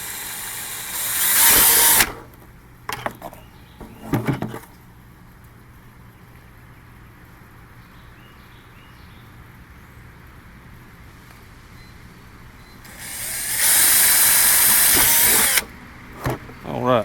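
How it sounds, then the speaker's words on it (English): A power drill bores holes into plastic chicken feeder containers, with a loud whirring burst up front, shorter bursts after, a quiet pause, then another long drilling run near the end. "let me go ahead and drill the rest of my holes"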